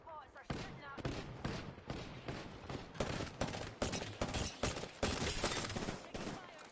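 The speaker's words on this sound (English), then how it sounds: "Spam bots are shooting at me." Gunfire from hostile bots in a video game, rapid bursts of shots hammering almost without pause, loud and dense from start to finish, with speech mixed in.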